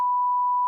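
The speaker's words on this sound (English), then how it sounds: "Beep." A single steady censor beep, a pure electronic tone held for under a second, alone and clear.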